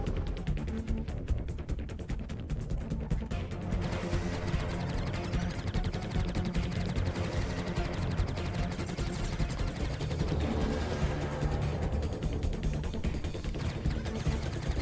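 Missiles launched at an enemy ship in a video game, a dense, continuous barrage of rapid crackling fire at a steady loud level throughout, with no clear speech.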